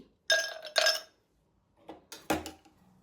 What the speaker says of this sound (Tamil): இப்போ நான் இந்த கிளாஸில் ஐஸ் கட்டி போட போகிறேன்.